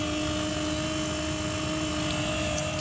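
A steady mechanical whir with a constant tonal hum from a homemade RV waste water pump running continuously nearby, with no talking.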